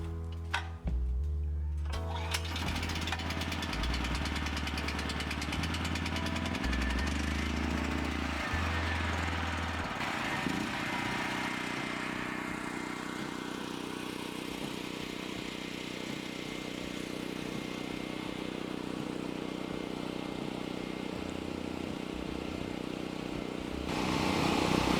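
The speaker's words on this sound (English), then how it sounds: "I hope you can hear me over the compressor." A Pond Pro 20 pond aeration compressor hums and drones steadily outdoors, a constant mechanical whir with a rhythmic pulsing at first, while a voice talks over it.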